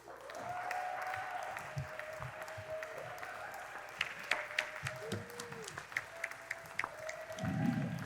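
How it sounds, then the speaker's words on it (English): An improv festival audience applauds the troupe Gray Matters at an opening show, a moderate spread of clapping with distinct individual claps, while background voices and a tonal hum run underneath. "please a nice warm round of applause for Gray Matters"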